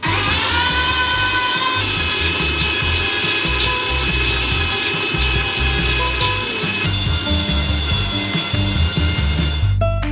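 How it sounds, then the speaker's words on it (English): An electric meat grinder pushing twenty kilograms of nuts through a small nozzle, a loud continuous motor hum with crunching and rattling throughout, close and without talk. "We transfer them into a meat grinder. And grind them through a small nozzle."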